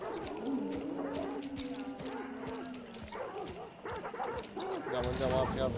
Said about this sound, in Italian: Oh, pieno di cani.